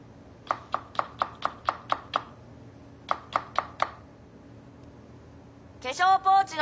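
Green onion being chopped with a knife on a cutting board, a quick run of seven crisp evenly spaced cuts, a pause, then four more, followed by a brief burst of voice at the end.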